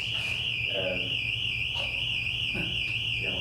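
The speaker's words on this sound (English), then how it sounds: "Fire alarm's going off over there, or the door alarm." An electronic fire or door alarm sounds steadily in the background, a continuous high-pitched tone running under a person talking nearby.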